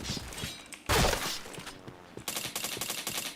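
AK rifle fire in a shooting video game: sharp, close shots and a heavy blast come first, then a fast automatic burst of evenly spaced cracks.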